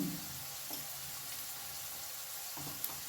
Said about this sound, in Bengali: বিনস ও গাজর মোটামুটি ভাজা হয়ে গেছে